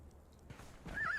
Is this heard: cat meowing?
no